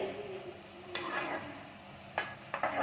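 Potatoes cooking in oil are stirred in a pan, a few quick scraping strokes over a faint background sizzle.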